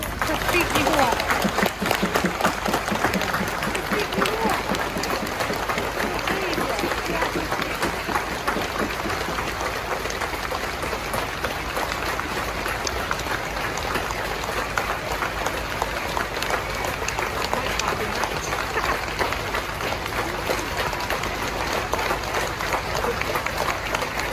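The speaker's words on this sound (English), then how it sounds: "we would like to do a moment's clap" Outdoor Welsh independence rally crowd in Windsor Place, Cardiff, applauding in memory, with a dense, steady patter of clapping sustained throughout at moderate loudness.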